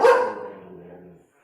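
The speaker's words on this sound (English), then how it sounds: "Sorry for his spoopy barking." A dog gives one loud, close bark indoors, and the sound rings out briefly before falling silent.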